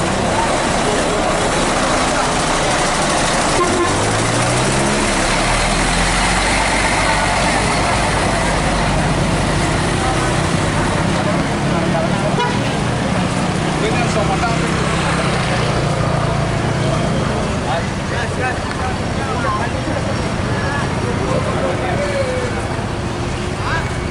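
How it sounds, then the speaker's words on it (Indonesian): A KMS double decker bus pulls out of Baresolok terminal, its loud diesel engine rumbling nearby and rising as it moves off, with a low drone and terminal bustle throughout and a voice narrating over it. "KMS double decker meninggalkan terminal Baresolok menuju daerah tujuan Kota Padang."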